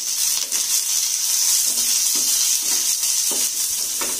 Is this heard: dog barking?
no